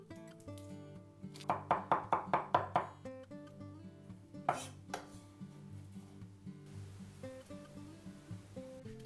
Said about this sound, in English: Chop it finely.